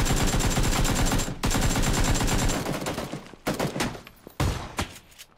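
Heavy gunfire in PUBG, a dense rattle of rapid shots that goes on for several seconds and then breaks into scattered single cracks and short bursts, loud and close.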